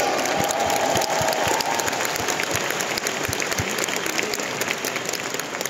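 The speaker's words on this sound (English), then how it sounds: "Can we give Freeway a round of applause today?" An audience at a business gathering gives a round of applause, a loud, dense wash of clapping with a few cheers, sustained and gradually easing.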